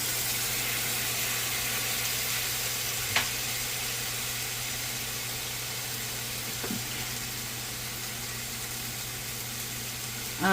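Minced meat with sazon, green seasoning and Worcestershire sauce sizzles steadily in a pan, a constant close hiss with a couple of faint utensil taps, no voices.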